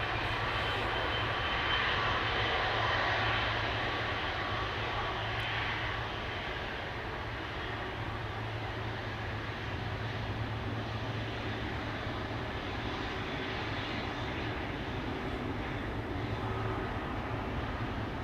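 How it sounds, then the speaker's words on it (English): A Boeing 777 freighter departing Amsterdam Schiphol Airport: the jet's engines roar steadily throughout, a broad loud rumble that holds without pause, with no voices. "That's a 777 freighter."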